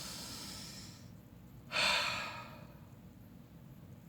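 A long, soft breath drawn in during a calm qigong exercise is followed by a louder, airy exhale that swells then fades, close and alone against quiet background noise.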